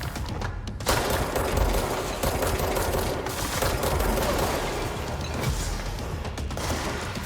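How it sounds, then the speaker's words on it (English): Rapid automatic gunfire from the shooter game Control rattles in sustained bursts, loud and close, with brief pauses between volleys against a busy background of game noise. "I'm shooting."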